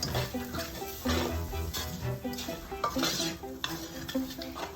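Flour is stirred into onions in a pan for a pork chop gravy, a continuous scraping and stirring close by that runs the whole time, with faint tonal sounds in the background.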